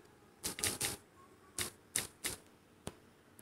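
Keys are tapped to enter a phone number and password while deleting a Facebook Lite account, in quick clustered clicks followed by a few single taps, close and fairly quiet.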